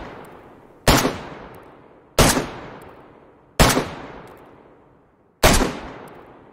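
Four single 5.56mm assault rifle shots in the video game DayZ, sharp loud cracks spaced evenly about a second and a half apart, each trailing off in a short echo.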